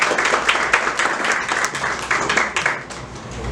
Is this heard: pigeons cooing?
no